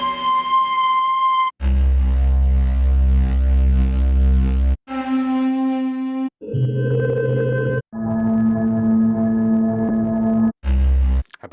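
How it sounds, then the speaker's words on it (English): A very low synthesized flute tone sustained as a series of long held notes, loud and close, each separated by brief silences, with no talking over it. "How about this really super low flute?"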